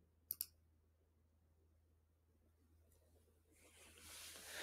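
A computer mouse button clicked on a Go button, one sharp, quick double click near the start in an otherwise quiet room, followed later by a faint tick and a rising soft hiss.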